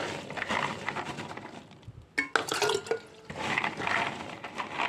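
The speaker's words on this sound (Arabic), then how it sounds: "عندي بقى الدماسة فيها مية، وانزل بقى كمية الفول" Dried fava beans tipped into a pot of water, a wet pouring and splashing with a sharp rattling burst in the middle, set among softer kitchen water sounds.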